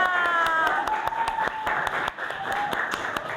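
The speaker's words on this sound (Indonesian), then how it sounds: "tepuk tangan untuk kelompok 4" A small group claps in a classroom for a team of presenting students, with a handful of distinct sharp hand claps over an ongoing patter and faint whistle-like tones in the background.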